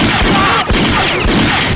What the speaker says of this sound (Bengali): গুলি করলো এই পাশে